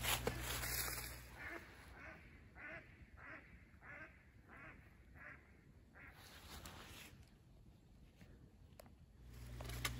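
Ducks quack at a forest reservoir in Sutton State Forest, Massachusetts. A rapid rhythmic run of faint, fairly distant quacks rises over outdoor ambience, with a few more scattered calls after it.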